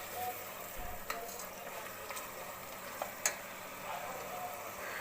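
Green chilies, garlic paste and ginger frying in ghee, a low, quiet sizzle with occasional faint ticks from stirring, close by and without voices.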